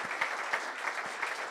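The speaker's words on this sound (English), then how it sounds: "it's a round of applause" A brief burst of clapping from a small audience at a community celebration event, soft and fairly distant, a quick patter of hands lasting under two seconds.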